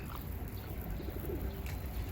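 Pet pigeons in a loft give a few faint, low coos in a quiet room, with no talk.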